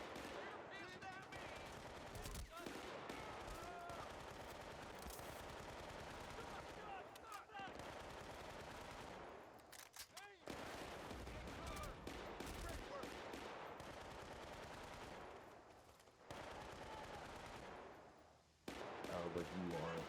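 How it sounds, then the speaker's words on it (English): Machine gun and other gunfire in the video game Battlefield Bad Company, continuous loud bursts and rattling volleys with brief gaps, heard alongside game audio and voices. "the machine gun."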